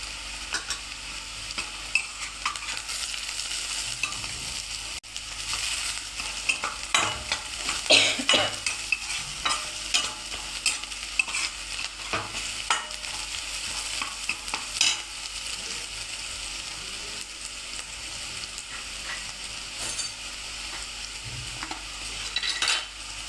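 Onion and turmeric sautéing in a pan make a continuous sizzle, broken by repeated scraping and stirring strokes from a utensil. The sound is close, fairly loud and steady throughout, with no talking.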